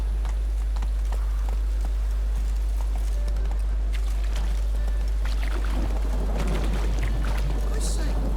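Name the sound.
horse galloping in the video game The Witcher 3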